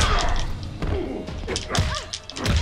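Baton strikes in Mortal Kombat X land as heavy thuds and smacks, several hits in quick succession amid fight effects and game noise.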